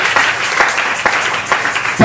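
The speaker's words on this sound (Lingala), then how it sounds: "Est-ce que tu peux acclamer pour toi?" A church congregation claps and cheers during a Sunday worship service, a dense wash of applause running steadily through the whole stretch.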